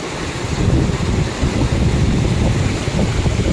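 A waterfall pours down during heavy rain near a hillside temple, giving a steady, dense roar of rushing water close by that stays unbroken throughout, with no voices.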